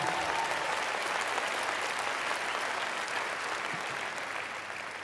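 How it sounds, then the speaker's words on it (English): Sustained applause from a large conference crowd at a political gathering, dense and steady throughout, fading slightly toward the end, with no talking over it. "Yeah, clap for that"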